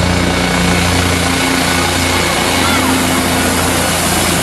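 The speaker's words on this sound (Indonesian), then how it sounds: "Lihat, ini helikopter militer." A blue toy military helicopter gives a steady, loud whirring buzz with a low mechanical hum underneath, running evenly for a few seconds.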